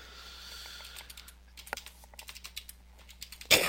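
Someone types a new password on a computer keyboard with a quick, uneven run of soft key clicks, faint and close, before a louder clack at the end.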